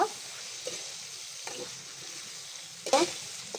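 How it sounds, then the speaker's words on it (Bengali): Fried fish is stirred into a cooked spice masala in a pan during a prawn bhuna, giving a soft steady sizzle with a few scraping stirs, one louder clatter near the end, and no talking. "আমি ভেজে রাখা মাছটা এখন দিয়ে দিচ্ছি দিয়ে একটু ভালোভাবে নেড়ে চেড়ে দেব"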